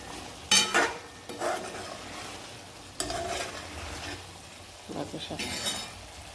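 Food being stirred in a pan in a home kitchen, with several bursts of scraping and sizzling at irregular intervals over a low background hiss, fairly close and moderately loud.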